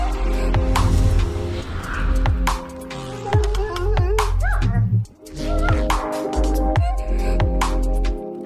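A guide dog puppy barks and yips in short repeated bursts, with whimpering tones mixed in, over a steady layered background sound.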